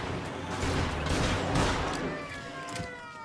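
Gunfire in a shootout with police in Mafia Definitive Edition, a series of sharp loud shots in quick succession, several overlapping bursts and echoing cracks that fade toward the end.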